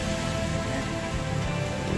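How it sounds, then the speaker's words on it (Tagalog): Heavy rain falls steadily outside, a dense, even hiss of drops on surfaces that stays loud and unbroken throughout, with no voices. "ang lakas ng ulan sa labas"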